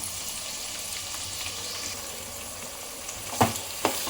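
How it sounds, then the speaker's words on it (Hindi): Sliced onions fry with spices in a pan, a steady soft sizzle throughout, joined near the end by two sharp clatters of a spoon stirring against the pan. "अब इसमें प्याज डाल रहे हैं"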